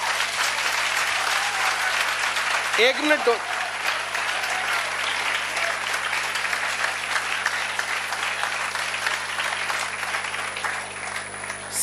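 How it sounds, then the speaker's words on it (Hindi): A crowd claps continuously in a dense, sustained round of applause at a coaching institute event, with someone briefly speaking Hindi over it partway through. "तालियां एक बार"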